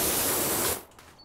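A power washer in the game PowerWash Simulator blasts rust cleaner in a loud, dense hiss that cuts off abruptly partway through, leaving a faint quiet tail.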